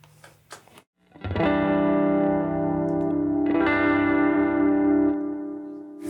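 A sustained music chord swells in through a filtering, modulating effect, wobbling and shifting in tone, then fades after a brief quiet gap at the start.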